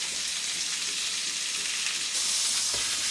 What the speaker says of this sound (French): on met de l'huile dans la poêle et on va poser la viande